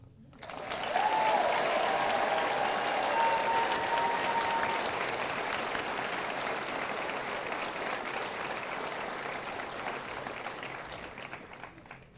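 A crowd claps at a high school graduation ceremony, bursting in abruptly and holding a dense, roomy roar of applause that gradually thins and fades toward the end.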